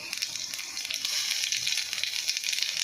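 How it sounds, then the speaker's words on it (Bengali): Nigella seeds crackle and sizzle in hot oil, a bright steady hiss with fine popping, close and fairly quiet, no voices. "আমি এবার কালো জিরেটা এই তেলের মধ্যে দিয়ে দেবো।"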